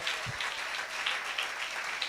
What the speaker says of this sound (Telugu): ఆయనకు చప్పట్లు కొడుతూ స్తోత్రాలు చెప్దాం.